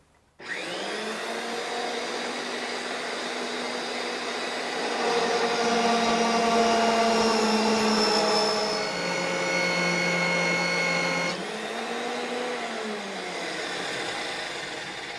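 A RIDGID 535M pipe threading machine running forward, a steady loud motor whine with strong tonal hum that starts abruptly, swells and shifts pitch slightly under load midway, then settles back, continuous with no talk.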